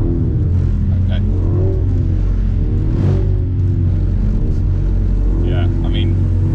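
BMW car engine on a race track with traction control active, a steady loud rumbling drone with throttle modulation rising and falling, someone talking over it.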